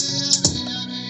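Maschine Studio plays a brief buzzy synth tone while an automated filter cutoff sweeps, opening and closing the brightness over about a second, with no voices.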